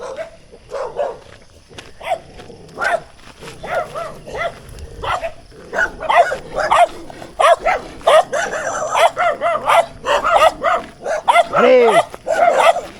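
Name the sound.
dogs barking at a runner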